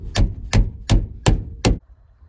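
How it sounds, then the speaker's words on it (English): A homemade hammer knocks a transmission part down during an F150 transmission swap: five sharp, evenly spaced metallic strikes, close and loud, then quiet. "We'll just use the homemade hammer to tap it down like nothing ever happened."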